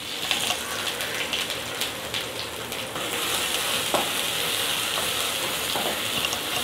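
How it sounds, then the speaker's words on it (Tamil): Finely chopped shallots frying in oil with cumin seeds for bitter gourd thokku, a dense continuous sizzle and crackle up close, with faint stirring ticks and no voices. "சீரகம் பொரிஞ்சு வரப்ப பொடியாக கட் பண்ணி வச்சுருக்க சின்ன வெங்காயம் அரை கப் சேர்த்துக்கலாங்க."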